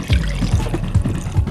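Water pours into a small container in a short, close burst of splashing and gurgling, with a few soft bubbling pulses and no talk.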